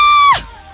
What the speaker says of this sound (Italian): ora mi devi fare il tuo urlo di gioia.